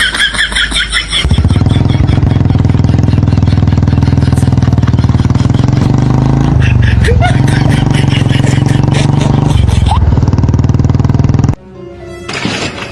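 A motorcycle engine runs loud and close in a rough, steady idle that throbs on for several seconds, then abruptly drops away near the end. Voices can be heard around it.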